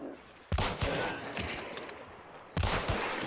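Gunfire in the video game Hunt: Showdown: two loud, close bursts of shots roughly two seconds apart, with a rattling echo that hangs between them over game ambience.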